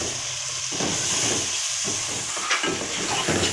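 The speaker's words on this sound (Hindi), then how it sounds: "आलू डाल के अच्छे से इसको भून लेंगे" Potatoes fry in a pan of spiced masala with cumin and coriander, giving a loud, steady sizzle and hiss up close, broken by brief stirring scrapes.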